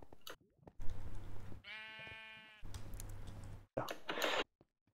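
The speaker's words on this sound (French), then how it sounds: "Oh, y'a un mouton." A sheep bleats in the Minecraft video game, one clear wavering cry standing out amid quick clicking and keyboard taps, with someone speaking briefly around it.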